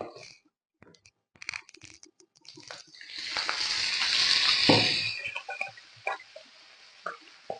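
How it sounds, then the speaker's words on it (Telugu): Chillies frying in oil in a pot while making a one-pot coconut milk biryani, a steady hiss and crackle that swells to a loud sizzle mid-way and then eases, with scattered stirring clicks. "ఇప్పుడు కొంచెం మిరపకాయలు వేయించుదాం ఆయిల్లో"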